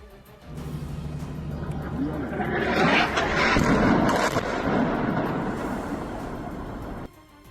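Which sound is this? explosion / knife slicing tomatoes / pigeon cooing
explosion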